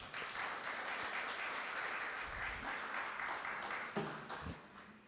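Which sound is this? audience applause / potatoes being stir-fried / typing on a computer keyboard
audience applause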